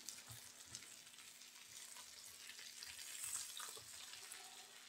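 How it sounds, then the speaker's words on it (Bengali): Sweet pumpkin pieces fry in a pan for a mashed pumpkin dish, giving a steady close sizzle with occasional soft stirring knocks and no voices. "উল্টে পাল্টে ভেজে নিতে হবে, দুপাশটাই যেন সমানভাবে ভাজা হয়"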